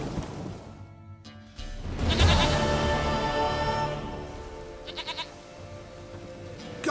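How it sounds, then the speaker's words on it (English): A goat bleats in the video game The Witcher 3: Wild Hunt, with a couple of loud, wavering nearby calls over quiet game ambience. "Goat of mine, dearest, sweetest goat."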